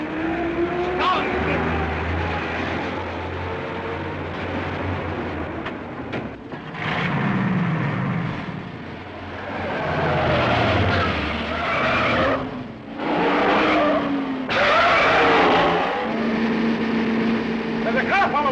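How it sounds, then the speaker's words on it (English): Car chase in the 1938 film Bulldog Drummond's Peril: revving engines surge and fade as cars pass close, with repeated sharp tire skids and squeals, loud and up front, with shouted voices over parts of it. "There's a car following us!"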